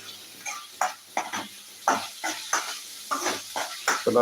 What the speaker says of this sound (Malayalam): നന്നായിട്ട് നമുക്കൊന്ന് ഇളക്കി കൊടുക്കാം